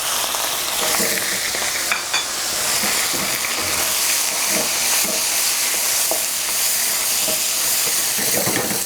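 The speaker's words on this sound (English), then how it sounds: "I'm gonna add a little bit of oil to my wok, give it a little swirl, and then I'm gonna add some skirt steak" Skirt steak searing in an oiled wok, producing a loud, continuous hissing sizzle with scattered pops and scraping stirs, heard close up with no talking.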